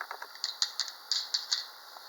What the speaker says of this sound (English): I'm going to go ahead and screw these little screws down here